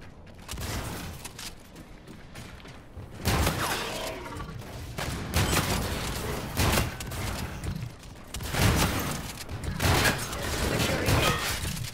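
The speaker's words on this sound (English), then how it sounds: "I got advanced from using the shotgun." Rapid shotgun blasts and gunfire in the video game Call of Duty: Infinite Warfare, loud and dense, firing in repeated bursts throughout an intense multiplayer match with game music and effects underneath.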